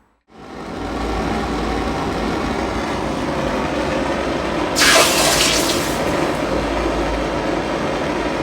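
Hot water from a tap runs in a steady, loud, close rush after a brief silent start, with a short brighter splash midway and no talk.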